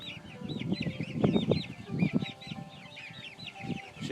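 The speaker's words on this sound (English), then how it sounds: "Chickens everywhere." A flock of about fifty chickens clucks nearby in steady, overlapping bursts, with higher chirping calls running continuously above the low clucks.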